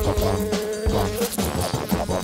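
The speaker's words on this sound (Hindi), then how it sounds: "यहाँ से निकलो मधुमक्खी।" A bee buzzes steadily and close for a couple of seconds, its drone filling the space throughout with no voices heard.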